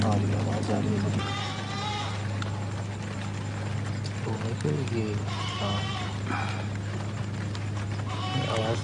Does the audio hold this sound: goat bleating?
yes